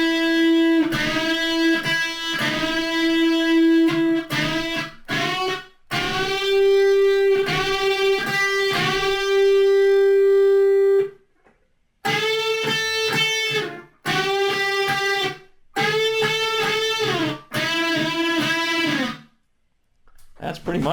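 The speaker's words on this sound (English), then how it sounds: "Now we're just going to add in the unison bends, and it sounds like this." An electric guitar plays the melody, now with unison bends. Distorted notes sustain and waver in pitch, grouped into phrases with brief silences between.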